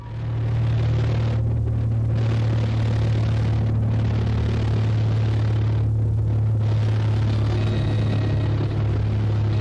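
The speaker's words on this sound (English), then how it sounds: "The footage captured the chaos as the plane flipped over and crashed into the trees." A steady, loud low-pitched engine rumble from a small plane fills the clip without a break, heavy and continuous, with no distinct crash impact standing out.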